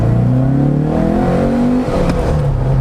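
A 1967 Porsche hot rod with a custom cam is driven on an open road, its engine revving loudly and climbing in pitch under throttle, then dipping briefly before pulling up again, close and continuous.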